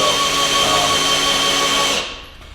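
A GMS electric oil primer pump runs steadily, pumping engine oil with a loud, constant motor whine and hum, then winds down and cuts off near the end.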